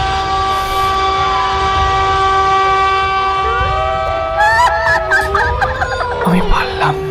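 A cartoon train on a railway line blows a loud, sustained multi-tone horn that bends in pitch as it passes, followed by rumbling clatter and brief overlapping voices near the end.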